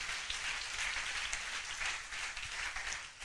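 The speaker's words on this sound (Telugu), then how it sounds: "చప్పట్లు కొడదాం గట్టిగా." A church congregation applauding, a dense steady wash of many hands clapping together, filling the whole stretch at moderate loudness with no talk over it.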